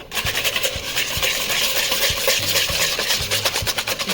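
Egg yolks and sugar whisked briskly in a bowl for a fruit tart filling, giving a steady scraping, rubbing rhythm with quick repeated strokes, close and fairly loud.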